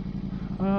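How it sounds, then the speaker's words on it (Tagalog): A motorcycle engine idles with a rhythmic low putter, then its note rises and steadies as it revs up near the end. "Kainit tayo ng makina."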